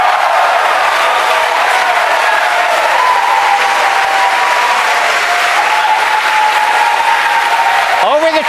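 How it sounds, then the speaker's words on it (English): Loud, continuous cheering and applause from a large crowd gathered at night for a SpaceX Falcon Heavy launch of the STP-2 multi-payload mission, a dense, steady roar with a faint announcer voice beneath. "Over the cheering in the background."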